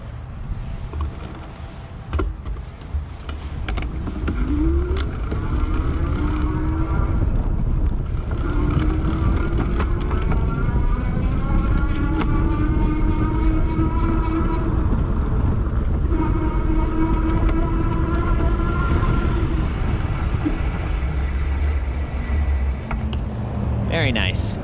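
Rad Power RadMini Step-Thru 2 e-bike riding at pedal assist level 3, a steady hum with rising and falling motor whine over continuous road and wind noise.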